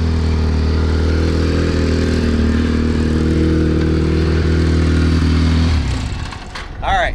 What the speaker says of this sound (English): You can hear the turbo a lot more.